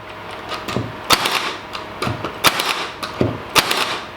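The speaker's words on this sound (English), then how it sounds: "So I'm shooting 1 3/4 inch. This is just a 2x4 stud," A Milwaukee M18 Fuel cordless nailer drives 1 3/4-inch nails into a 2x4 stud, with five or six sharp, loud cracks spaced about a second apart and faint mechanical clatter between the shots.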